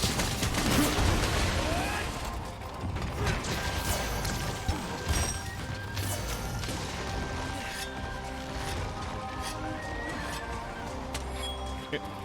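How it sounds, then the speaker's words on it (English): Rapid bullet barrage gunfire fills a chaotic video game fight, crashing and clattering continuously at high volume with mechanical clanks and game effects layered throughout. "One more bullet barrage for the road."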